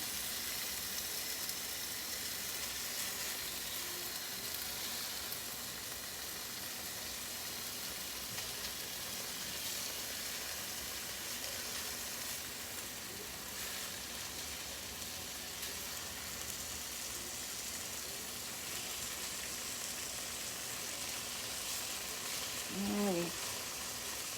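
Bacon frying in a pan gives a steady, even sizzle and crackle that carries on without a break, at a modest level, with faint kitchen noises and a brief knock near the end.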